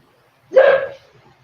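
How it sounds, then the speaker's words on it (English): A dog lets out a single short, sharp bark, loud and close, in an otherwise quiet room. "That was my dog."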